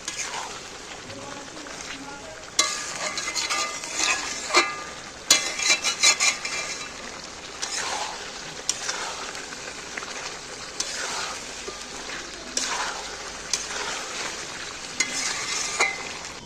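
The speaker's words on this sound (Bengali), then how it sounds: "এইবার ভালো করে নেড়ে নেড়ে একে কষিয়ে নিতে হবে" Fried chicken pieces stirred through a masala in a pan, a steady sizzle with repeated scraping and clattering stirs, occasional voices in the background.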